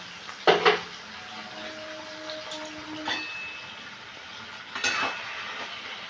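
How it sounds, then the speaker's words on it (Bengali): Potato-pumpkin curry with kasuri methi being stirred in a pan: a few distinct scraping clatters of a spoon against the pan over a soft, steady sizzle, with quiet gaps between strokes. "এবার এটাকে আমি ভালো করে মিশিয়ে নিচ্ছি"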